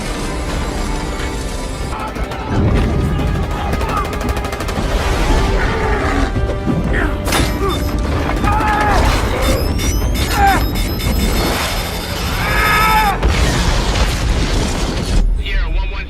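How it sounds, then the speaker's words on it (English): Heavy gunfire and booming explosions fill a Halo video game battle, loud continuous rumbling blasts and bursts with scattered sharp electronic whines, and game characters speak over the din. "They're under heavy fire."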